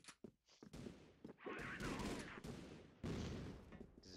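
Rapid bursts of gunfire from a weapon in the video game Crossfire crackle in quick succession, loud and dense, with a short lull before another burst.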